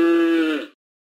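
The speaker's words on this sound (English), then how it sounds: "Cow." A cow lowing once: a single close, loud, steady tonal call about three-quarters of a second long that cuts off cleanly into silence.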